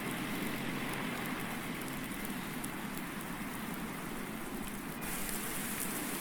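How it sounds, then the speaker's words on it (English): Rain falls steadily in the farming game Seasons & Precision Farming on Thornton Farm, a dense, even hiss of drops on surfaces that runs unbroken and fairly loud throughout. "at least it's turned to rain"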